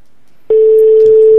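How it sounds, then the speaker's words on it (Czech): A steady single-pitch telephone tone sounds through a radio studio line while a listener is called back on air, starting abruptly and holding loud and continuous with faint low background noise. "Tak uvidíme, jestli telefon bude zvednut"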